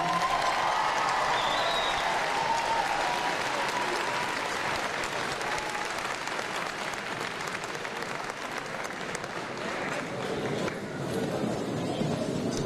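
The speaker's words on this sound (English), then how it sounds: "Give them a big round of applause, ladies and gentlemen." A large audience claps for seniors at Erie High School's Night of Reflection, dense sustained applause with crowd murmur, a few whoops or calls rising briefly early on.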